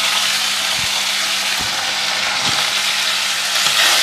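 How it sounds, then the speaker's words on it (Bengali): Pieces of tilapia fish sizzle in hot oil in a home kitchen, a loud, steady crackling hiss with a few soft low thumps spaced through it, and no one speaking. "এবার আমি মাছগুলো এক এক করে ভেজে নেব।"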